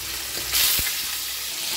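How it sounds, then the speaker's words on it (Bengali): Fish fries in hot oil in a pan with a close, steady sizzle, a brief louder hiss near the start and a few small knocks. "এবার এক এক করে ভেজে দিচ্ছি"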